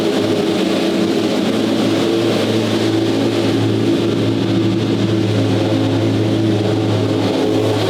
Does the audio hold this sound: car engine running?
yes